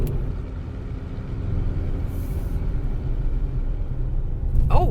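A 2021 Mercedes-AMG E63 S 4MATIC+ estate in Sport Plus rolls over a bumpy road, giving a steady low rumble of tyres and suspension inside the cabin, with a brief voice near the end.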